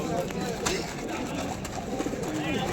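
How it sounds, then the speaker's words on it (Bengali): Pigeons at a Kolkata pigeon market on Galiff Street, soft cooing amid a busy crowd murmur, while someone speaks nearby. "দারুণ কোয়ালিটির পায়রা।"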